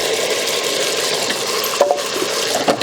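Ginger and garlic fry in a pan with a loud, steady sizzle, with a few scraping stirs and clinks near the end and no talking.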